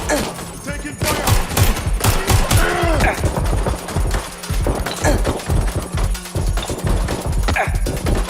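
Bursts of gunfire in the video game Watch Dogs Legion, fast volleys of sharp shots and automatic fire in dense rapid clusters, loud and close, with occasional voices in the mix.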